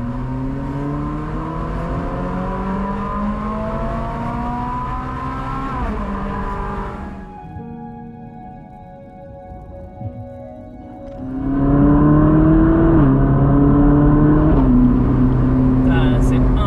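A Ferrari 458 engine revs nearby as a DJI Avata drone films it, the loud tone rising and falling before dropping away, then surging again. No words are clear, but a voice seems to be mixed in.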